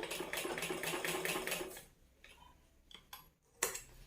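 A domestic sewing machine runs a straight stitch in a steady, fast mechanical rhythm for about two seconds, then stops, leaving a few faint clicks and handling noises close by.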